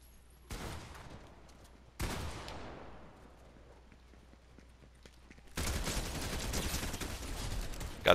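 Bursts of gunfire in a Fortnite match: two sharp separate volleys, then a sustained stretch of rapid shooting, fairly loud and close, with no talk over it.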